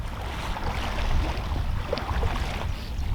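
Wind gusting across open water at a lure-fishing spot, a steady broadband rush that swells slightly mid-way, with faint water lapping beneath and no talking.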